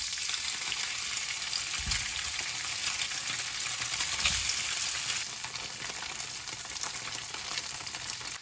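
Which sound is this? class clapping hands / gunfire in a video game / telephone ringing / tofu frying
tofu frying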